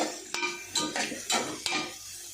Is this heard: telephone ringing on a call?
no